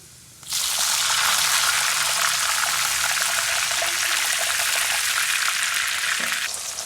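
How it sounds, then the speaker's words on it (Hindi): Water poured into a pan of browned masala for aloo gobhi bursts into a loud, steady sizzle and hiss that starts abruptly and continues close up without letting up. "अब इसमें पानी जाएगा थोड़ा।"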